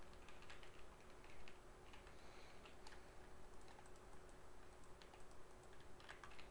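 Rapid mouse clicks from a player in PokeXGames, a crowded run of light plastic ticks over a steady hum, fairly quiet and without talk.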